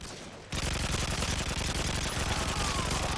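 Dense, rapid gunfire from a Modern Warfare 2 ground war match, a sustained loud crackle of shots and explosions kicking in after a brief quieter moment and continuing without pause.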